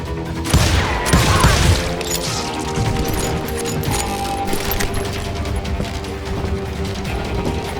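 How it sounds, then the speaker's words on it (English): Western-style gunfire in a town street from the game Call of Juarez Gunslinger, a dense, loud crackle of shots and impacts over a continuous layer of game music and noise, with no speech. "You're shooting in the street."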